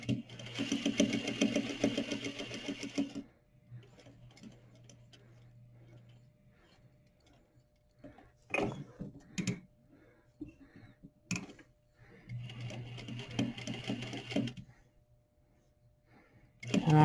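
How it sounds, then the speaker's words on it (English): A sewing machine runs in two steady bursts of rapid whirring stitches while top-stitching a patch pocket, with a quiet stretch of small clicks and handling noises between the runs. The machine is close and fairly loud. "So now I'm going to line up my outside of my foot on the right with my first row of top stitching."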